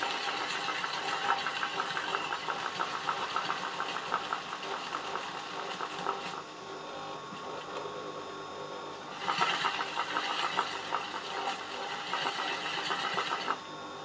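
An embroidery sewing machine stitches an outline in a steady, fast mechanical whir that runs continuously and close up, briefly softening before picking up again, with no voices.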